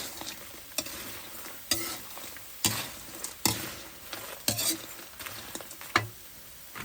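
Food is dry-roasted in a pot while being stirred until the oil cooks off, giving faint, close scraping strokes at an uneven beat over a low, dry sizzle.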